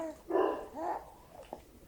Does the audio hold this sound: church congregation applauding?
no